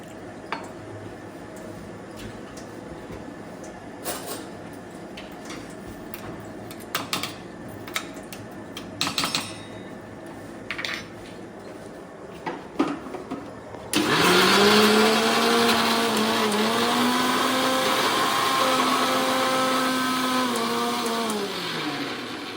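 Quiet kitchen rustling and a few clinks come first, then a mixer grinder starts up loudly and grinds a ginger and coriander paste finer with added water, its motor pitch wavering for several seconds near the microphone.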